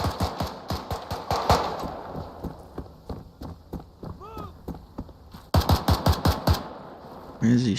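Gunfire in the Arma game Antistasi, bursts of rapid rifle shots at moderate distance in uneven clusters, with quieter stretches between and a voice speaking briefly in the middle.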